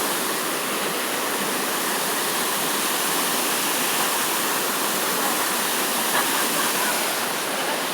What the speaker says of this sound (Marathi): मोठा धबधबा आहे तिकडं.